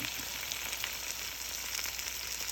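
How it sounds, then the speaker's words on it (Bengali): Onion and garlic frying in oil with dried chilli for a simple home dish, a steady, fairly quiet sizzle that crackles evenly throughout, close by and without talk. "পেঁয়াজ রসুন এখানে ভাজি করব শুকনো মরিচ দিয়ে দিচ্ছি"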